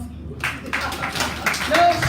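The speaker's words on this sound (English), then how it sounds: "So ladies and gentlemen, please clap for us." Audience clapping at a Liberian cultural press briefing, scattered hand claps building over a couple of seconds, moderately close, with some voices mixed in.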